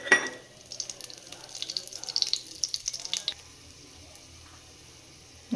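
Whole spices frying in hot oil in a pressure cooker, a quiet crackling sizzle with scattered pops that fades after a few seconds, close but faint.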